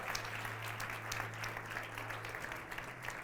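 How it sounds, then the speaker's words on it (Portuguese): Church congregation applause at a Sunday service, a steady wash of many hands clapping together at moderate distance, sustained evenly over a low background hum. "Em nome de Jesus, aplauda o nome dele."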